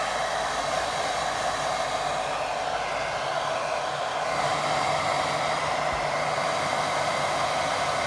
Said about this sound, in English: Very nice and gentle with the dryer.